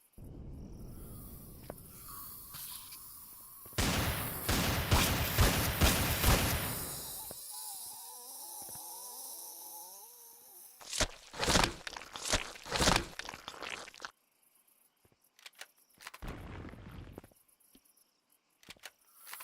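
A hand cannon fires in the video game Empyrion, sharp cracks arriving in two rapid clusters separated by a quieter stretch of ambient hum.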